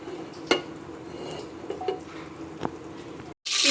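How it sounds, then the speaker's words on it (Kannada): Garam masala spices frying in a spoonful of hot oil, a soft steady sizzle punctuated by a few sharp clicks of a spoon stirring against the pan, ending with a brief silence and then a louder burst of sizzling. "ಇವಾಗ ನೋಡಿ, ಫ್ರೈ ಆಗ್ತಾ ಇದೆ"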